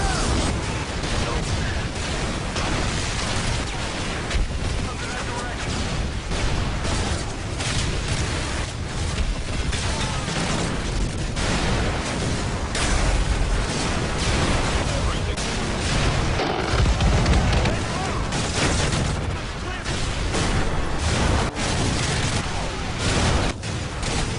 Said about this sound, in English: everything on all sides of you is constantly blowing up